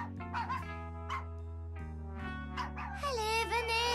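Dogs yip and bark in a quick, excited run of short high calls, with one or two whimpery notes, all over a steady bed of background music.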